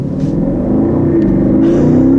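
A 2021 BMW X6 M50i's twin-turbo V8 revs hard from inside the cabin, a loud, deep, rising engine drone building steadily over about two seconds.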